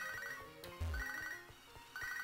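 A phone ringtone from the video game Pokemon SoulSilver chimes in repeating bright beeps with game music underneath, fairly quiet and steady.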